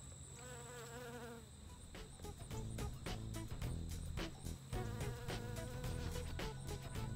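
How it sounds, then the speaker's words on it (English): Bees buzzing over a corn and buckwheat food plot in September on a breezy day, a quiet, steady insect drone with wind and rustling, no talk. "You can hear the bees maybe buzzing."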